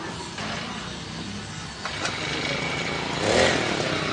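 A farm engine started and running, a steady rough engine drone with slight rises in pitch, moderately near and without talk.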